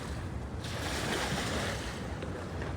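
Broad, steady wash of water and wind noise at the Mississippi River waterfront in St. Louis, a continuous hiss with gentle surging, no voices.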